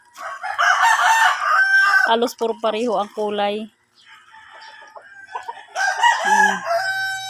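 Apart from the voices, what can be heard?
red rooster crowing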